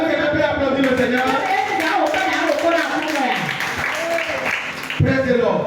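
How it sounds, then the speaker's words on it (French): A church congregation claps and cheers while voices ring out loudly over the applause, forming a dense mix of hands and exclamations. "Est-ce que quelqu'un peut applaudir le Seigneur?"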